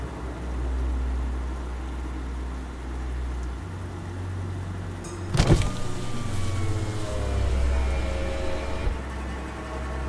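A car approaches on a rainy night road and slows to a stop, a low engine rumble with a brief sharp swish as it pulls up, set under steady rain-like hiss; no voices.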